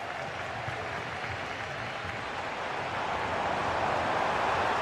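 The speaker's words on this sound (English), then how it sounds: "the crowd have been brilliant" Stadium crowd in a football video game roaring and applauding as a steady wash of noise, swelling slightly toward the end, with no talk over it.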